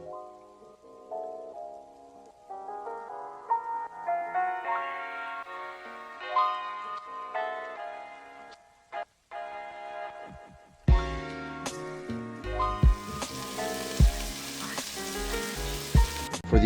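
A beef patty sizzles in a pan, with a hiss like rain that swells in the second half under music, which plays throughout.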